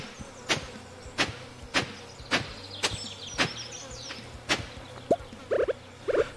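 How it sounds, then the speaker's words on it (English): A buzzing fly sound effect in the Stardew Valley video game, repeating as a string of regular clicky buzz pulses, over a steady background of game music. "Really not a fan of the buzzing fly sound effect"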